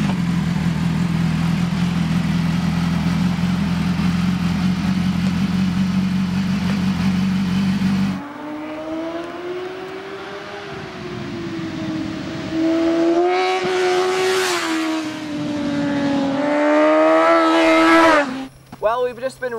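A cold 2015 BMW motorcycle engine warms up, first holding a steady, low idle drone, then changing to wavering, rising and falling revs before cutting off abruptly.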